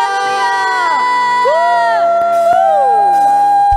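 A congregation of children shouts hallelujah in a loud, sustained, overlapping chorus of high voices, rising and falling in long swooping cries at a Good Friday kids' church service.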